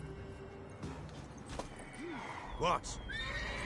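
A horse in the video game The Witcher 3 gives a short neigh near the end, with faint hoof clip-clops and a player's voice speaking quietly underneath at low overall volume.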